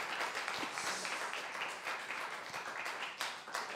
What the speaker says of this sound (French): j'aimerais qu'on l'applaudisse quand même